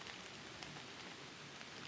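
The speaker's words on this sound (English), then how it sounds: "I'm starting to get a little too much rain because my camera's starting to get wet" Rain patters onto a camera and a soaked hoodie during an outdoor bow hunt on public land in Kentucky, a faint, steady hiss of drops with no voices.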